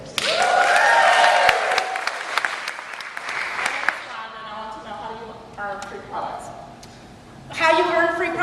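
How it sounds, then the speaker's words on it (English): Applause for Rhonda during a Pampered Chef sales presentation, a burst of clapping at the start that fades into scattered claps and tonal sounds, with voices and other noises mixed in. "I think we should give a round of applause to Rhonda."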